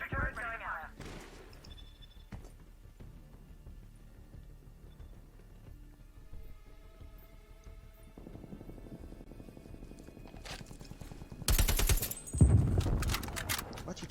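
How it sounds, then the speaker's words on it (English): Gunfire from a sentry turret in Call of Duty Cold War erupts as a loud, dense burst near the end, after a stretch of quieter game sounds. "Sentry turret going out."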